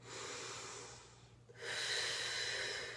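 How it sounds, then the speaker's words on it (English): Two big breaths during a yoga forward fold, a long airy exhale then a fuller, louder inhale-like breath, close and alone with no talking. "Just take 2 big breaths here."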